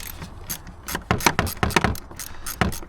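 An 8mm tool loosens a Jubilee clip on the air box of a 2016 Ford Transit Connect, giving close, quick ratcheting clicks in short uneven bursts.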